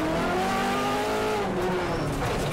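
A Subaru rally car fitted with a Ferrari engine revs loudly, its high engine note sweeping and wavering over a rough, constant mechanical roar, close and dense, with no talk.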